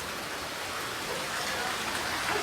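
Steady rain falls throughout, a dense even hiss with soft spattering on surfaces, fairly close and unbroken for the whole stretch.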